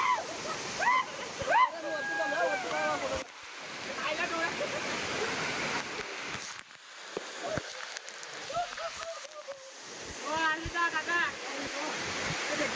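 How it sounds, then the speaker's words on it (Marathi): Monsoon waterfall at Matheran rushing as a steady broadband roar through the whole stretch, with people talking loudly over it nearby. "धबधबा आपला बघा."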